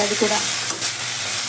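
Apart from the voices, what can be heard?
fenugreek leaves frying with vegetables in a pan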